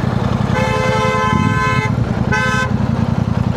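Vehicle horns honk on a busy road near a possible accident scene, two long toots with steady tonal stacks sounding close and loud over constant traffic rumble.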